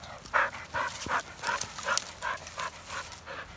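A dog at a pheasant shoot pants hard and steadily close to the microphone, with quick rhythmic breaths and no talk.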